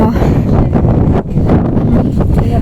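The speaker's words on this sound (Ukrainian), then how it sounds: "Оце вітер." Wind buffets the microphone in loud, gusty rushes with a short lull midway, rumbling low throughout.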